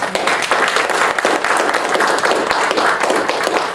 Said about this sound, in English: So please, round of applause for these guys.